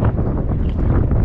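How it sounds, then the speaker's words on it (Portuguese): Strong wind over a river roars and buffets close to the microphone on a kayak, a dense low rush with no break and no talking. "Tá ventando mais forte agora."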